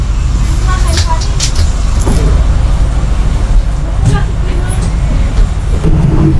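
A bus rumbles with a steady engine drone and road noise for a Maharashtra ride toward Vadkhal near Alibag, loud and continuous throughout, with faint voices talking over it.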